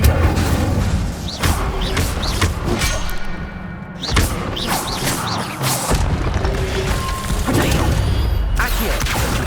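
Spell impacts in Hogwarts Legacy land as a rapid series of heavy thuds and booming bursts, dense and loud, with short whooshing casts between the hits.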